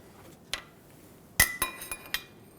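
A new copper washer fitted onto a brake hose banjo bolt while replacing a front brake hose on a 2000-2005 Ford Excursion makes small metallic clinks: one light tap, then a cluster of four or five close, bright ticks.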